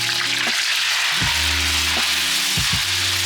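Lemon juice poured into browned butter in a pan sets off a loud, steady sizzle and frying hiss that carries straight through, with no talking.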